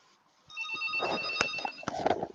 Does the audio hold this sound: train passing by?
no